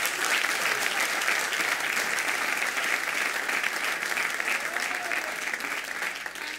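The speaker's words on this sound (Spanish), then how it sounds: "Deme un aplauso con ánimo" A church congregation claps together, a thick, even wash of applause that holds loud and steady for several seconds before easing slightly at the end, no speech over it.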